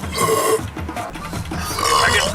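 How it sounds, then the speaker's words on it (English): A man lets out a long, throaty burp close to the mic, rumbling and gurgling for about two seconds. "Oh, that was me burping."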